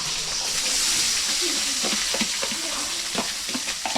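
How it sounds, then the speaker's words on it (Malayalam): Onions sautéing in a pan, giving a steady close hiss and sizzle with soft scraping stirs throughout and faint talk in the background. "അപ്പോൾ ഉള്ളി വാട്ടുകയാണ് സുഹൃത്തുക്കളെ"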